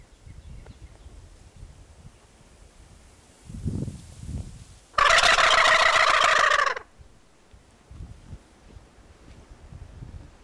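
A wild turkey gobbles once in a wheat field, a loud rattling burst standing out over wind noise and faint rustling, with softer low thumps just before it.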